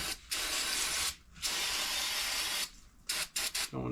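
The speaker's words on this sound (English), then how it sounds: "We're going to just give her a quick spray down to get all this gunk off" Carb cleaner sprays from an aerosol can onto the carburetor of an older Polaris snowmobile in loud, close hissing bursts: a long spray, a short break, another long spray, then several quick short squirts.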